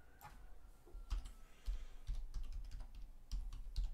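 Typing on a computer keyboard as a date is entered: a quick run of close, crisp key clicks in uneven bursts, heard alone with no talking.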